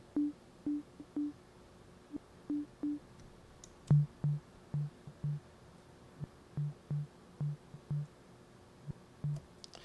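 A synthesized kick drum from NI Massive with amplitude modulation on its volume, playing a steady electro loop of short tonal thumps in two pitched groups, moderately loud and dry, with no voices.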